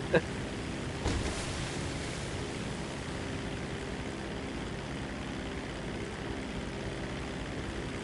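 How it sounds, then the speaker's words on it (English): A helicopter in GTA 5 flies steadily, its engine and rotor making a continuous broadband drone that holds at an even level throughout, with one brief sharp knock near the start. "This helicopter is so much faster than that plane."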